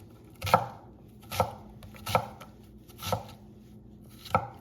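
A knife chops down through an onion onto a cutting board, five distinct, evenly spaced thuds with brief pauses between them, close and clear with no talking.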